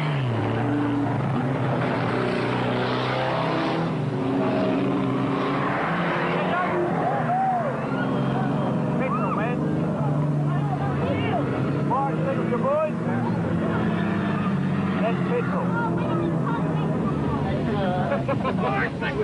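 Cars racing on a speedway track, engines roaring continuously with rising and falling revs as they pass, heard under crowd babble and voices throughout.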